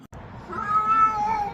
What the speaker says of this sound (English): There's a stray cat outside.